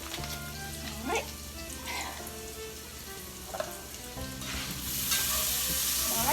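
Onions sizzling in a pan for scalloped potatoes with ham, a steady close frying hiss with occasional spoon scrapes, swelling louder and brighter toward the end.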